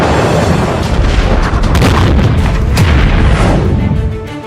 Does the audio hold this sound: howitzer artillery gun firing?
yes